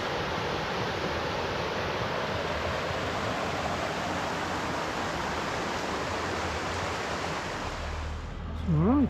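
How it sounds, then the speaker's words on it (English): Waterfall on the river Nid in the countryside, a dense, constant rushing roar of falling water filling the scene and loud throughout, with a voice starting right at the end. "we've come up to this rather nice waterfall."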